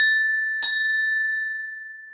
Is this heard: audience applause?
no